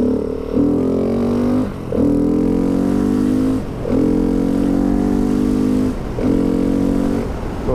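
A supermoto single-cylinder engine, a KTM 690 SMCR or Husqvarna 701, revved repeatedly up close in four steady rising pulls. The pitch climbs through each rev, with brief dips between them as the throttle is released.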